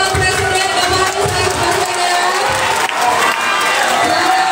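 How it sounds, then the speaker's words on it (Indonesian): Crowd at a disability discussion event in Indonesia cheering and applauding a presidential candidate, Anies Baswedan, a loud, dense, continuous roar of shouts and clapping from many people close by. "Kita berikan tepuk tangan kepada Bapak Calon Presiden Bapak Anies"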